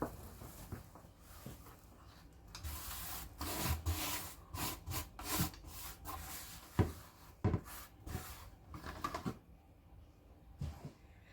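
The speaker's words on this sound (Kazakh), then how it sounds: "Қазір мен бәрін араластырам." Hands mixing a potting blend of charcoal, perlite and coconut substrate, giving close, gritty rubbing and crunching scrapes in irregular bursts that fade toward the end.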